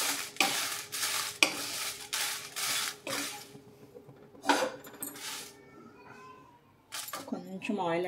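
Dried red chillies and curry leaves being stir-fried in a pan for curry leaf pickle, with repeated scraping and stirring strokes and light sizzling, near and fairly loud, and a voice joining near the end.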